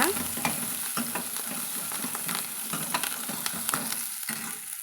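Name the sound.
frying and stirring onions and curry leaves in a pan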